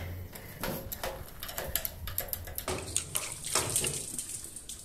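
Water gushing from a copper pipe after its plug is punched out with a screwdriver, a steady broadband rush with splashing and dripping accents, close and fairly loud throughout, no talk.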